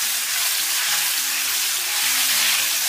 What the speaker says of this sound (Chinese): 全程开中火给它慢煎